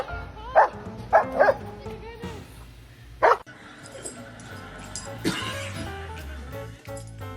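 A puppy gives several short, high yips and barks in quick bursts, close and fairly loud, while people talk throughout.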